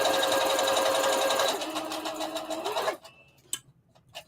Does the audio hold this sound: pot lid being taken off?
no